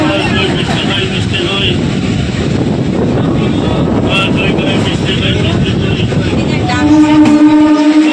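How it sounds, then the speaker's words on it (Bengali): A passenger train pulling out of Howrah station, a loud continuous rumble of wheels and carriages heard from inside, with people talking throughout and a brief tonal horn-like sound near the end. "হাওড়া স্টেশন থেকে ট্রেন ছেড়ে দিয়েছে।"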